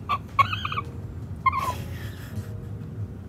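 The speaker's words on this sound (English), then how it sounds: "the rooster is awesome" A rooster crowing outdoors in Porto, Portugal, two short strained calls followed by a longer one over a steady rumble of background noise.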